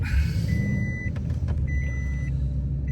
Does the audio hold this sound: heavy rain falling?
no